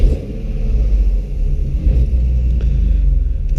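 A six-cylinder drift car engine idles steadily with a deep, continuous low rumble, close and fairly loud, with no talking.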